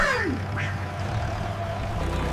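A cartoon duckling gives a short, nasal quack at the start and a second quick squawk soon after, both over a low steady hum, fairly faint.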